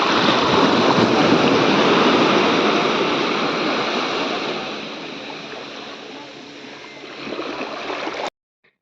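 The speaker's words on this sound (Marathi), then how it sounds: "छान असं मस्त समुद्राचं खळखळत वाहत येणाऱ्या लाटा असं स्वागत करतात आहे मस्त" Sea waves rolling in on Malvan beach in the morning, a loud continuous wash of churning surf that slowly fades, then a brief louder swell before cutting off, with no talk.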